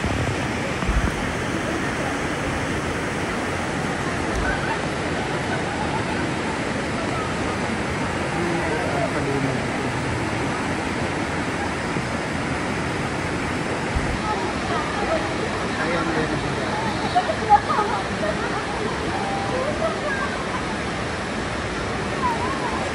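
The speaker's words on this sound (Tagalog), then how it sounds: "Kalinaw yung tubig dito sa Panawan Falls." Panawan Falls in Dingalan, Aurora, a waterfall with clear water, roaring as a steady, loud broadband rush of falling water that fills the whole span, with no voices over it.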